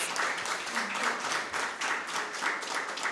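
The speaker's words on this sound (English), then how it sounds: "give both teams another round of applause" An audience applauding both teams at a moot debate in Jamaica, many hands clapping in uneven swells that dip briefly and resume, moderately distant and without speech.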